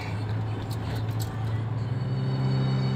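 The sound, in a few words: Toyota Innova engine revving in second gear during test drive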